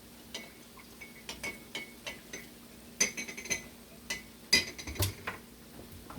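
A utensil clinks and scrapes against a bowl while rice and peas are stirred together with salt, giving a run of light, irregular taps that grow sharper partway through, close and fairly quiet with no voices.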